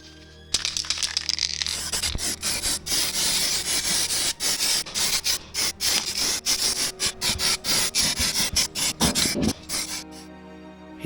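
Abrasive sanding of rust on the wheel arch of a classic Mini, a continuous close-up rasping scrape broken by brief pauses and short rhythmic strokes toward the end, with no talking.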